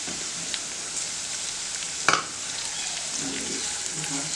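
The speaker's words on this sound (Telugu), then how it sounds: "సో ఇప్పుడు ఇదంతా నేను బాగా వేయించేసుకుంటాను." A large onion, cut into long slices, fries in a pan with a steady, close sizzle. A single clink of a stirring utensil sounds partway through, and no one speaks.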